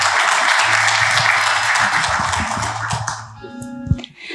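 Church congregation applauding in welcome, dense steady clapping for about three seconds before it thins out, a low tone under it and a brief knock near the end.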